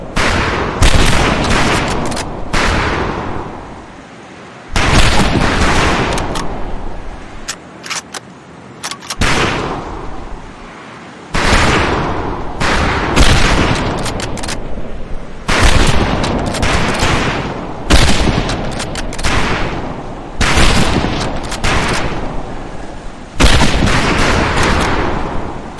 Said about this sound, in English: You look like you're afraid of that rifle, son. Fire it like a man.